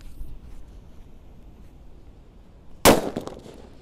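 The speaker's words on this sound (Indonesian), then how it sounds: "Sweetnya nggak bunyi guys, langsung bledos. Tapi banter sekali ini" A Colorful Sweater firecracker goes off with one sudden loud bang after near silence, followed by a short crackling tail.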